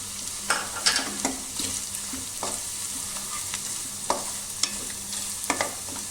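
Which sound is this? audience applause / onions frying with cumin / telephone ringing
onions frying with cumin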